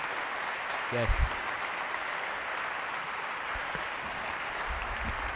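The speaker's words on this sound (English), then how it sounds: "I would like all the Arabia 500 people here to stand up and give them an applause" Applause from a large summit audience at a keynote, a steady broadband wash of clapping heard at a moderate distance, with a brief spoken word near the start.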